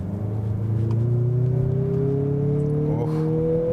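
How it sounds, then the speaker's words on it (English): A 2024 Mazda CX-50 engine accelerating in sport mode, heard from inside the cabin as a steady, rising drone that climbs in pitch over a few seconds, with no talking. "I definitely felt I heard the sound of the engine a lot more"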